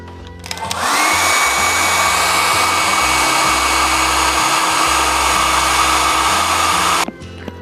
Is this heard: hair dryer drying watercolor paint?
yes